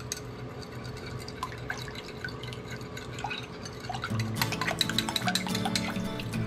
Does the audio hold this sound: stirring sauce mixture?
yes